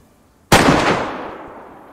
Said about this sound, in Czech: Střílí tam frajer.